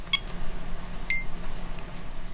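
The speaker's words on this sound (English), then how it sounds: "we installed an alarm system in this RV, and we actually ordered a Simply Safe alarm system" A Simply Safe alarm system sounds short electronic beeps inside an RV, two quick chirps spaced about a second apart over a quiet background hum.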